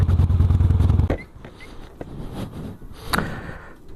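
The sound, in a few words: Harley-Davidson Dyna Super Glide Custom motorcycle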